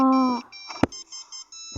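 A high, tonal electronic alarm beeps in short repeated bursts, interrupted by a sharp thump partway through.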